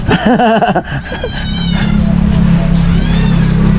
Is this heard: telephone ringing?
no